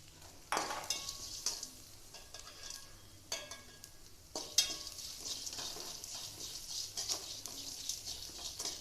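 Onions sautéed with a pinch of salt in a pan while a spoon stirs them, giving soft sizzling under sharp scraping and clattering strokes at an uneven pace, close and fairly quiet.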